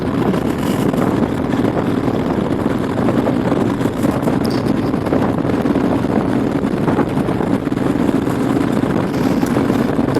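Steady, loud wind rush and helmet buffeting while riding a Royal Enfield Himalayan motorcycle, with a low engine drone underneath, continuous and unbroken throughout.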